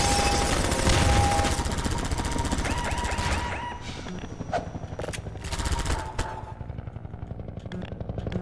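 A helicopter in Half-Life 2 thrums with a continuous rotor drone, joined by bursts of gunfire and thuds that thin out as the noise fades into scattered shots.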